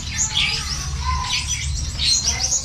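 A Gouldian finch chick, 8 to 10 days old, squawks in repeated high, scratchy bursts up close while a leg ring is fitted, and a low rumble of handling runs beneath the calls.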